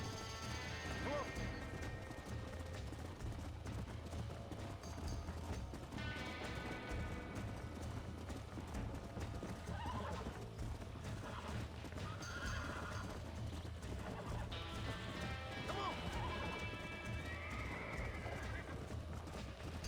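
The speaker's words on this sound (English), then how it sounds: "Hey, the stallion's getting away." A stallion in Red Dead Redemption gallops with rapid hoofbeats and repeated loud neighs and whinnies, close and continuous, while voices talk over the action.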